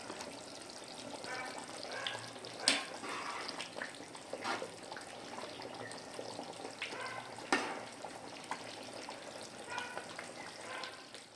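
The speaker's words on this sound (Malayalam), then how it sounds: "ഇതിങ്ങനെ തിളച്ചുകൊണ്ടിരിക്കുന്നു" A pan of roasted-coconut chicken curry bubbles and sizzles steadily up close, a continuous wet crackle with a couple of sharper pops standing out.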